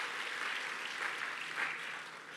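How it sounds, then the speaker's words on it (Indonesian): A church congregation applauding, a continuous wash of clapping from many hands, moderately faint and even for a couple of seconds with no talking. "Tepuk tangan dulu buat Tuhan."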